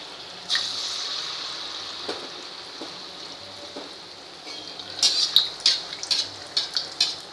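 Sweet bhaji (gulgule) batter frying in hot oil on a lowered gas flame, giving a steady close hiss with a burst of sharp crackling pops near the end.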